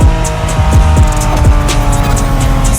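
A Honda NSX engine in The Crew Motorfest revs up loudly and close, its pitch climbing and dropping with repeated gear shifts in a steady roar.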